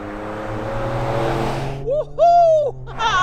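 A tuned Ford Ranger Raptor truck with a Ford Performance tune accelerating through deep snow, engine roaring loud and close, then rising and falling in pitch with sharp revving shifts, all without talk.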